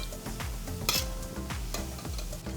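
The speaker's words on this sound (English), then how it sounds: "So we're just stirring it around to make sure that it's fully cooked." Food frying in oil in a pan is stirred with a utensil at a Trinidad and Tobago cook-out, a steady close sizzle broken by repeated scraping strokes and one sharp metallic clink.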